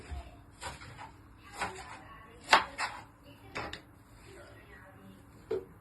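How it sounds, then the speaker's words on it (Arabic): Intermittent chopping of parsley on a board, a few separate knife strikes with quiet gaps, close by against a faint background hum. "وننضفه ونقطعه زي ما انتم شايفين كده"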